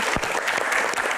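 Audience applause at a Q&A stage event, a steady dense wash of many hands clapping through the whole short moment, fairly loud and without talk.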